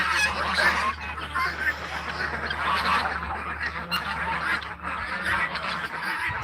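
Flock of ducks in a backyard at a poultry farm, with a dense, continuous chorus of honking and quacking close by and at moderate loudness.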